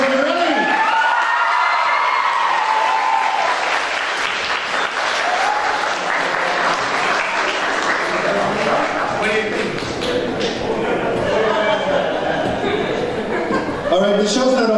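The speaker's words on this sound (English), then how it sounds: "Let's give a big round of applause for Governor Inslee." Audience at a school mariachi program applauding and cheering for a visiting governor, a long loud stretch of clapping with whoops and voices mixed in, some talk and laughter running underneath.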